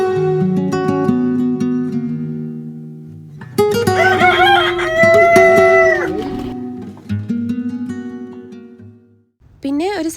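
A rooster crows at a small farm corner with chickens and goats at a Mini Santorini attraction in Fujairah, UAE, giving several loud, drawn-out harmonic calls over a few seconds amid other nearby sounds.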